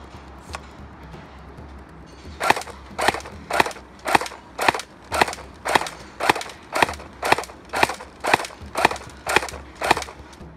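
Toy-Tec P90 airsoft electric gun (AEG) fired semi-auto with its suppressor effect on, producing a long run of about sixteen crisp, regular snaps roughly every half second after a brief quiet lead-in, close and steady with no voices.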